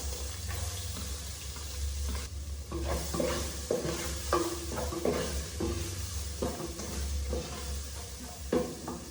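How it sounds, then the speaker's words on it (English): Onion and coriander stems sizzle in oil in a pan for stir fry pasta, with repeated scraping and stirring clatters over a low steady hum, no voices. "Then I'll go in with my onion and the dania stems that I'll cut."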